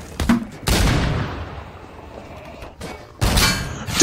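Gunfire in the game Garry's Mod Prop Hunt: two loud close bursts of shots, one near the start and another near the end, each ringing out into a fading tail, with no speech.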